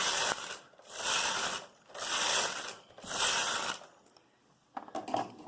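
A Brother KH270 knitting machine carriage knitting a slip pattern sweeps back and forth in steady mechanical passes, each a loud rattling, ratcheting clatter lasting about a second, with short pauses between strokes and lighter clicks at the end.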